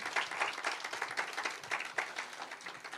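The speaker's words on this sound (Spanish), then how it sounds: "Dale un aplauso al Señor." A church congregation applauds the Lord during a midweek service: a steady, moderately loud round of clapping with rhythmic bursts filling the whole stretch.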